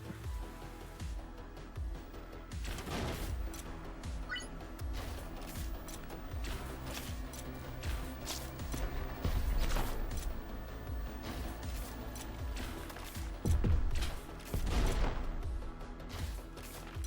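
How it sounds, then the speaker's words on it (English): Plasma gun firing repeatedly in the video game Overdrive Escape, loud irregular bursts of shots over a dense layer of game music and effects. "let's just try out the plasma gun"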